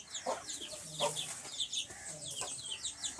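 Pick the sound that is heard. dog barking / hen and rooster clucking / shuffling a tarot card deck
hen and rooster clucking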